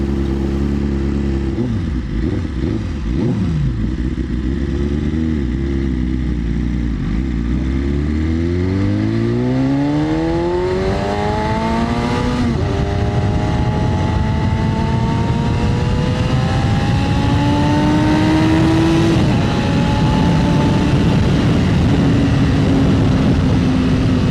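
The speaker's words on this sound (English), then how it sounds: "So looks like a small traffic jam." Heavy traffic on the Nagaon bypass in Assam, with superbikes and a long line of trucks: loud, continuous engine roar with rising and falling revs as vehicles pass close by, no talking.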